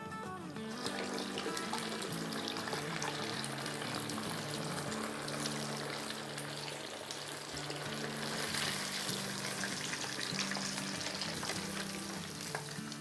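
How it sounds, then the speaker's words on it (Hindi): Marinated chicken kebab pieces (charga kebab) sizzle and crackle in hot oil, a dense, continuous frying hiss that stays steady at moderate loudness throughout, with no talk. "अब इसमें हम सारे पीसेस नहीं डालेंगे, आधा डाल के और 2 मिनट फ्राई करके निकालेंगे"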